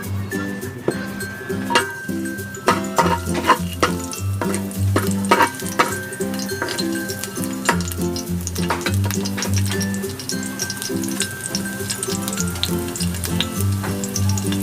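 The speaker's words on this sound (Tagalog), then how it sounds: "mainit na yung kawali natin. Lagyan natin ng mantika." Oil sizzles in a hot kawali, a wok-style pan, before sautéing for a mussel dish. A steady frying hiss is punctuated by sharp utensil clinks and taps close by.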